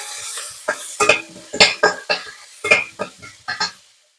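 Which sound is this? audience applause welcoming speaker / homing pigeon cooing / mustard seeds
mustard seeds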